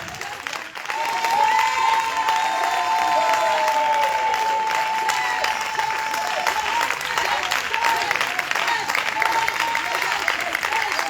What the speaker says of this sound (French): Quand tu es rempli et que tu cries tu applaudis ton Seigneur